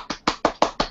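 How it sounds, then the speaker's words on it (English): Quick round of applause over a Hangouts video call from a small group, five sharp evenly spaced claps in under a second, close and fairly loud with nothing else heard. "the round of applause is a bit more vigorous"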